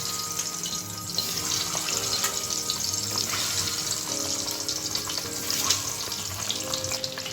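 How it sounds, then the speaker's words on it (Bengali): Eggs fry in hot oil in a pan with a steady, close crackling sizzle, continuous and fairly quiet, with small pops scattered through it. "তো এই তেলে আমি দিয়ে দিব ডিমগুলো।"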